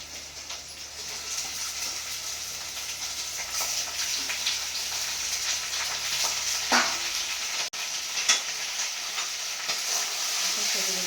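Steady frying sizzle of mutton pieces in a pan of tempered spices, continuous and fairly loud, with occasional clinks and stirring scrapes over the hiss.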